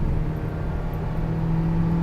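A 2015 Kia Soul with an automatic gearbox downshifting in manual mode, a steady engine hum and drivetrain drone from inside the cabin, continuous and moderately loud with no clear shift break, no talking.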